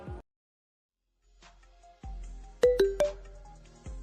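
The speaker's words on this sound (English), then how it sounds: "Text message." A short electronic chime rings out in a few quick tones over faint room noise, followed by a soft thump.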